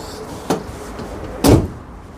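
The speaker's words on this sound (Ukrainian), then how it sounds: "У обох варіантах у нас дві здвижні двері, що там, що там." Two mechanical door sounds: a light thud, then about a second later a louder, heavier slide-and-clunk of a Toyota Proace Long van's sliding door, close by.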